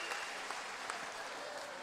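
A combat sports crowd applauds and cheers as a fighter enters the ring, a steady dense roar of clapping heard from within the arena for under two seconds, with no clear speech.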